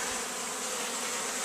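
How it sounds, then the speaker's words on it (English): Close, dense buzzing of bees on a feeder at a hive being robbed, a continuous droning hum with no talking. "Ooh, it's got bees on it."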